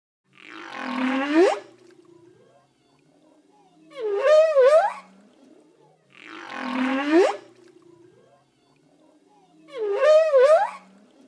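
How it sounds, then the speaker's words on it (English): Whale calls, four long moaning cries with rising and falling tones, alternating between two call shapes at a steady spacing, loud and clear with no other sound around them. "Whales."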